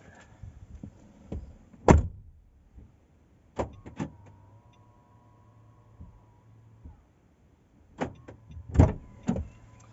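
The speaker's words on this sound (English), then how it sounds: "I'm going to shut the door, lock the car" A Nissan Qashqai J11 door shuts with a solid thunk, followed by a short electric whir and further clunks and clicks as the car locks, all close by in a quiet setting.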